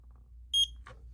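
A Simplex smoke alarm gives one short, high electronic beep after its push-to-hush reset, brief and clear over quiet room hum, followed by a faint click.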